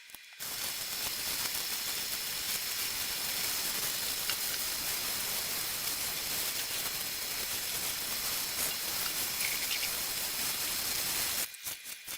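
Water runs steadily over an ice-dyed fabric being rinsed out, a constant close hiss and splash with no voices.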